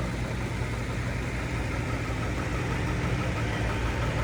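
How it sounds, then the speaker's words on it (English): A John Deere 80 tractor runs in a heritage weekend tractor parade, its engine giving a steady, loud, close rumble with an even knocking beat throughout. "we got a John Deere 80 here."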